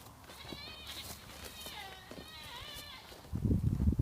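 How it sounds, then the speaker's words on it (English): Goats in a backyard give several wavering, quavering bleats in succession, moderately near, followed by a burst of rustling and handling noise close to the microphone at the end. "Goats."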